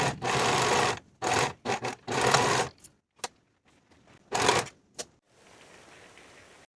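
A sewing machine finishes the seam allowances of a vintage 1960s step-in dress in several short, close bursts of rapid stitching separated by pauses, the later passes quieter, with no voice.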